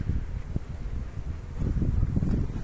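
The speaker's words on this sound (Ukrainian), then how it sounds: "Так що вітер, бачите, дуже такий вітер великий." Strong wind blows outdoors in an orchard in Poltava region in early spring, buffeting the microphone with loud, uneven gusts and low rumbling roar throughout, with no speech.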